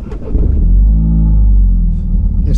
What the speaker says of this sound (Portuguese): Este cold start é brutal.